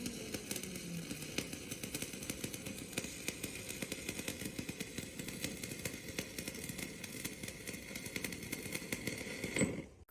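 Shielded metal arc welding with an E7018 electrode, the arc crackling and sputtering steadily and close for several seconds before cutting off abruptly at the end.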